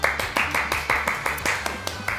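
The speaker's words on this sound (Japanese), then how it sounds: "拍手" About a dozen evenly spaced hand claps ring out close and crisp in a quick, steady rhythm with no voices.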